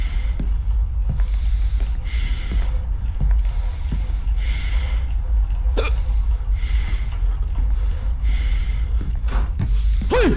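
Repeated involuntary hiccups from a person, sharp short catches recurring every second or so over a steady low rumble of room noise.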